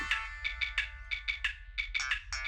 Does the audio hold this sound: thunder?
no